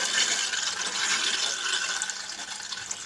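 A toilet tank refilling with water, a steady hissing rush of flowing water, close and continuous throughout without talk.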